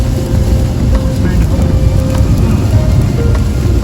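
Heavy rain drums steadily on a car on a long highway drive, a dense continuous wash with low road rumble underneath, constant and close throughout.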